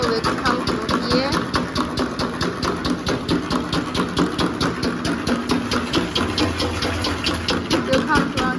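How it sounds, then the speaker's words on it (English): Pump of an LH300L perfume making machine running with a steady, continuous mechanical hum and fine periodic pulsing, fairly loud and close throughout, with a voice talking over it. "Turn on this pump switch. Then the material will come through here."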